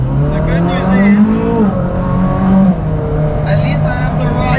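A Ferrari Speciale drives in city traffic with a loud, steady engine drone and a rising rev, then a brief easing off. The engine stays close and fills the whole clip with no clear break.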